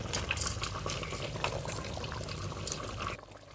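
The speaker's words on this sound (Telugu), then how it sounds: "పిసికిన చింతపండు నీళ్లు వేసేద్దాం వంకాయలు వేసేద్దాం మామిడికాయలు వేసేద్దాం" Squeezed tamarind water being poured into a fish curry with brinjal and raw mango: a steady, close splashing pour that stops abruptly near the end, with no talking.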